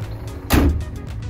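A Scania G410 truck cab door closes in one short, muffled thud, heard up close and alone.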